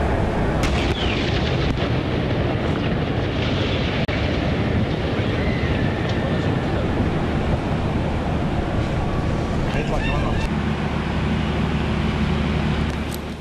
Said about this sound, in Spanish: La intensidad del fuego de artillería y de cohetes se ha incrementado